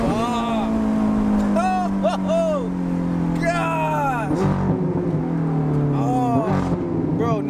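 A Ferrari engine revs hard during driving, a loud, steady mechanical drone that swells and shifts in pitch, while people talk excitedly over it.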